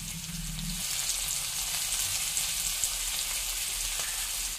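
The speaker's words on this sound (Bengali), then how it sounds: "তেলটা একটু গরম হলেই প্রথমে এর মধ্যে পেঁয়াজ কুচি, তারপর কাঁচা লঙ্কা, এবার একে একে টমেটো, গাজর আর বাঁধাকপি দিয়ে দিচ্ছি" Chopped onion, green chili, tomato, carrot and cabbage frying in hot oil in a pan, a steady close hiss of sizzling that holds evenly throughout with no voices.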